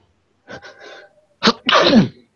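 A single loud sneeze with a quick drawn-in breath before it and a forceful burst at the end, close up and alone.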